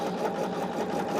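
A sewing machine runs steadily, stitching charm pack quilt pieces, a continuous close mechanical whir with no break throughout.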